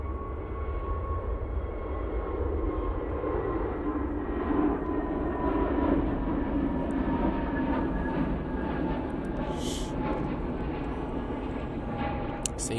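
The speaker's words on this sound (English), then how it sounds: "Oh, it's Jet 2 actually. What am I on about? Here's an A321 Neo." Jet2 Airbus A321neo airliner at Manchester Airport, a steady, broad engine roar from a distance that holds evenly throughout with faint hiss and rumble and no speech.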